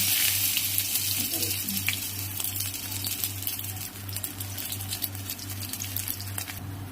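Garlic and dried red chili fry in hot oil in a pan, giving a steady crackling sizzle with scattered pops throughout, alongside a constant low mechanical hum; no one speaks.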